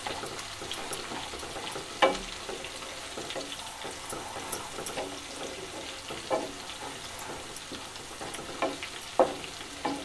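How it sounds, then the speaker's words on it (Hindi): Chopped garlic fries in a pan for a green-garlic bajra kadhi, a continuous close sizzle broken by repeated clinks and scrapes of stirring, with no voices. "थोड़ा सा लहसुन हल्का सा पक जाए, ज़्यादा नहीं जलाना है लहसुन को"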